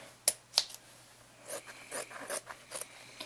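Scissors snip through material in a salvage job on a destroyed unibody MacBook, giving soft, close crunching cuts, two crisp snips followed by a quicker run of about six rasping strokes, quiet overall.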